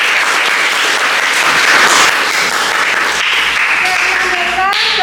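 Students in a classroom clap loudly and continuously together, close and dense throughout, with voices briefly mixing in near the end.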